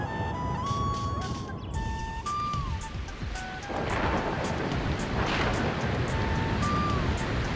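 A large thunderstorm rolls in over an animated countryside scene, a dense rumbling roar with a rain-like hiss that stays loud and steady throughout, while a thin melodic tone drifts in and out above it.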